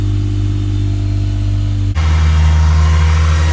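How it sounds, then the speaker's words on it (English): A Lexus IS350 engine holds a high idle, then jumps abruptly to a louder, higher rev partway through, loud and close with no voices. "Why is it revving so high?"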